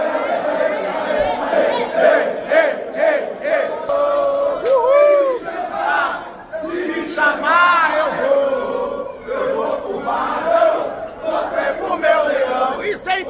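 Vitória football fans chant loudly and continuously at Curitiba airport, a close, rhythmic crowd roar with shouted voices rising and falling throughout.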